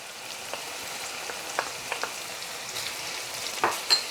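Scallion dropped into a hot curry pan, giving a soft steady sizzle with scattered crackles and a few louder pops near the end, close by and with no voices.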